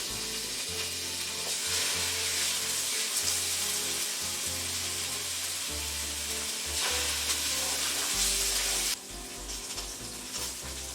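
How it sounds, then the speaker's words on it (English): Pork chops browning in a hot oiled pan give a loud, continuous sizzle and crackle close up, with a low hum underneath and a brief shift in the spitting near the end. "Let's get these pork chops in here and get them started."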